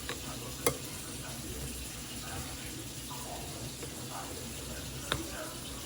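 A spoon stirs a thick egusi melon seed paste in a pot with a soft, wet churning sound and two sharp utensil knocks against the pot.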